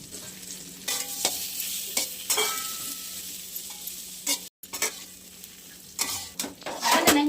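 Chopped dates and figs sizzle in hot ghee while a spoon stirs them in the pan, giving a steady crackling fry broken by scraping strokes and a few light clinks against the pan.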